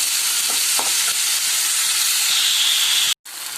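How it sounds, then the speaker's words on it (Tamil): Onion, tomato and mixed vegetables sauté in oil in a kadai, giving a loud, steady, close hiss of frying with a few soft stirring touches and a brief cut near the end. "இது நல்லா வதங்கணும், எண்ணெயில் இது நல்லா வதங்கணும்."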